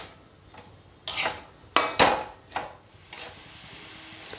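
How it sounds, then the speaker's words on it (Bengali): A spoon stirs grated coconut and sugar in a pan, giving a handful of scraping clinks against the metal, spaced irregularly and close, with quieter gaps between strokes. "চিনিটা দিয়েই একটু নাড়াচাড়া করছি চিনিটা গলে যাওয়া পর্যন্ত"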